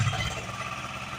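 A tractor stuck in deep ground runs its engine at a steady, moderately quiet chug, a brief low rumble with no talking.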